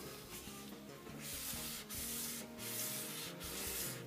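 A Mora knife blade is sanded with 1000 grit sandpaper to take off its patina, a quiet, close, steady back-and-forth rasping in regular strokes.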